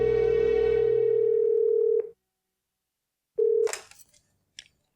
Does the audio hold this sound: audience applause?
no